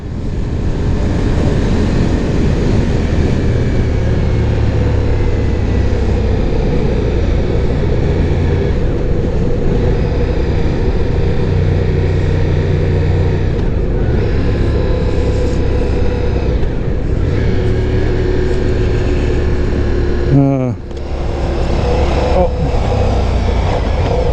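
A Ducati Diavel V4 motorcycle engine drones steadily while riding, loud and constant with heavy wind rush.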